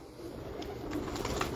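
A king pigeon named Pagal gives soft, low cooing calls, a few repeated throaty coos sounding fairly faint against a quiet outdoor background with no talking.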